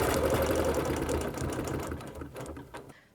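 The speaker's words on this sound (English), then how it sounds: "So I'm going to use the ruler and stitch and stop right there at that 1/4 inch." A sewing machine stitches a straight line across a quilt guided by a ruler, a rapid even whirring chatter that runs loud and close, then slows and stops near the end.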